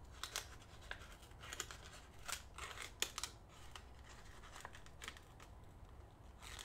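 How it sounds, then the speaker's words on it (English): Paper tears and crinkles while a puzzle box is opened, with tweezers in use: quiet, close, irregular short rips and crackles spread over several seconds. "I think I'm ripping paper."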